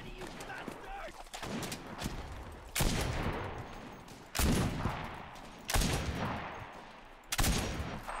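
Gunfire in the World War II shooter Enlisted on a North African battlefield: several distinct heavy shots spaced a second or two apart, each with a booming echoing tail, amid background battle noise.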